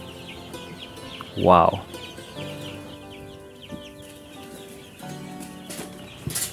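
Local chickens on a small poultry farm, with a loud burst of clucking and wing-flapping close by, then softer scattered clucks and movement over steady farmyard background; a brief exclamation from a person.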